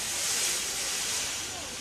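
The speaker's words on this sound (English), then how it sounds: "He blew his whistle and wheeshed lots of steam." A cartoon steam engine at a busy station lets off a long, steady wheeshing hiss of steam that stays loud and unbroken throughout.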